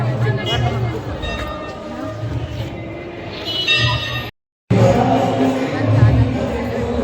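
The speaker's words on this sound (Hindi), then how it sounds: "ज़्यादा भीड़ है।" A dense crowd at the Khatu Shyam temple, a steady loud murmur of many voices with nearby talking over it, and a brief dropout partway through.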